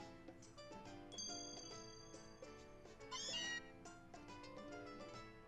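Meowth's cat cry from Pokémon Ultra Moon sounds as a short, bright meow over the game's tonal background music, with no talking.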